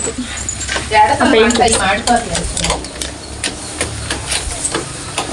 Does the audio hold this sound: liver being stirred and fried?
yes